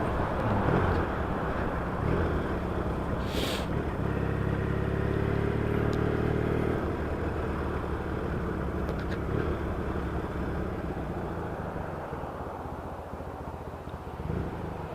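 A Triumph or Yamaha XS650 motorcycle with louder aftermarket pipes idles at about 800 rpm, a steady, close low rumble that holds for the whole stretch with a slightly fuller throb partway through.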